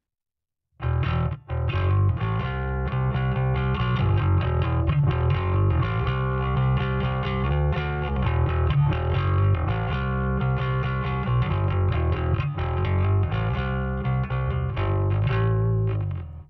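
Bass guitar played through a Kemper Profiler amp with heavy distortion, a thick, gritty, sustained tone running continuously after a brief silent start, with no talking.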